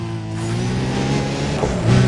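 A race car in Need for Speed: Undercover revs hard and accelerates, its engine a loud, close, rising whine with steady harmonic drone and a surge toward the end, no talking.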